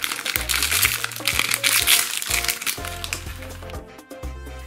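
A crinkly plastic packet of collectible Стиратели eraser toy figures is torn open and crumpled near the microphone, with loud rustling bursts over steady background music.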